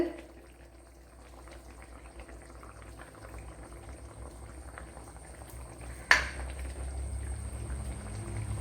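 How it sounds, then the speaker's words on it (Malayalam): Okra curry bubbles steadily in a pot, a soft continuous boil with a brief clink partway through and a slightly louder simmer afterward. "നമ്മുടെ കറിയൊക്കെ തിളച്ച് ഇതിന്റെ ഓയിലൊക്കെ തെളിഞ്ഞു വന്നിട്ടുണ്ട്."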